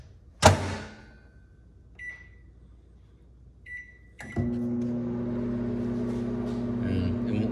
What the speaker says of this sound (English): Put this back in the microwave,